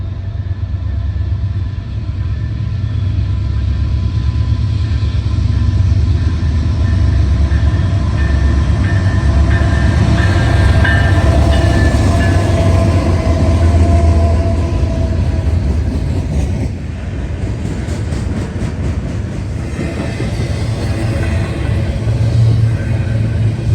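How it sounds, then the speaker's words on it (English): A Norfolk Southern intermodal freight train led by two C6M locomotives passes close by, a loud sustained rumble and roar of engines and wagons that holds steady throughout. "It was an intermodal with two C6Ms."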